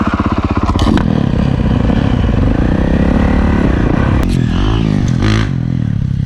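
Motocross dirt bike on a dirt track in Townsville, Queensland: a loud, close engine revving hard and continuously, rising and falling with throttle changes, with clattering mechanical noise and brief scraping bursts throughout.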